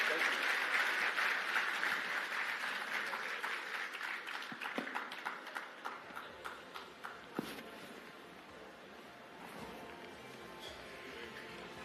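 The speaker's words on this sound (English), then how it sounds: "they deserve a bigger round of applause than that." An audience at the Afreximbank Annual Meetings 2025 conference gives a round of applause, dense clapping that thins out into a few scattered claps and then stops.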